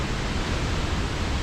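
A constant heavy roar of water pounding down at Reekie Linn, a Scottish waterfall, fills a brief moment, loud and near with an even, hissing texture and no speech.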